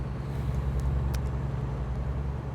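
A big rig in American Truck Simulator drives through turns with a steady, loud low engine drone and road rumble, plus a few faint high ticks, with no voices.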